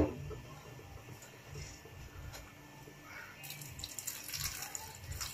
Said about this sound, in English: I can add a little water.